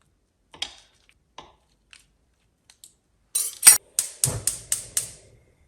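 Knife cutting through two cubes of butter for a Velveeta nacho cheese sauce, a run of six or seven sharp taps on a board after a few faint clicks, close and alone.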